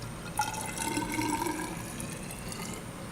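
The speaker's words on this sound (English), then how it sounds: "Just pour it into a beaker and pour it back into this one" Acetone and hexanes solvent mix poured from a lab beaker into another to blend: a short, close liquid pour with trickling and splashing, starting abruptly and tapering off over a few seconds.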